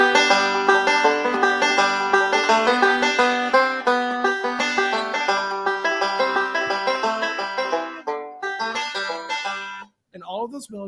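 Banjo picks out a melody in a square roll of thumb, index, thumb and middle, giving a steady stream of bright, quickly decaying plucked notes that stay close and clear, then stop briefly near the end before a few final notes.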